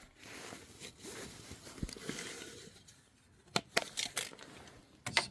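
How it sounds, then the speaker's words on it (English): A tape measure is drawn out beside an off-road vehicle's upper storage lid, giving close, soft ratcheting rasps and a few sharp clicks that come in bursts with quiet gaps between them. "Let me just get the tape measure out here."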